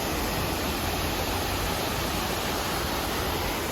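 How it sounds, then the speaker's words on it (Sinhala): A small waterfall in Brasov, Romania, a constant dense rush of falling water, loud and close, with no pauses. "පොඩි දියැලක් අපට හම්බුණා."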